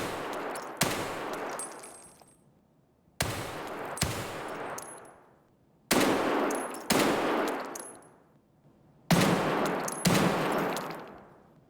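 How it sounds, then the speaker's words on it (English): Gunfire indoors in Escape from Tarkov, heard as six loud, sharp shots in pairs and singles, each followed by a long booming echo that fades over about a second. "We're going to do shooting indoors."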